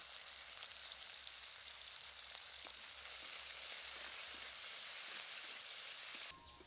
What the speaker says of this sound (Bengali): প্রথমে আমি চিংড়ি মাছটা ভেজে নেব সামান্য লবণ দেব আর হলুদ গুঁড়ো দেব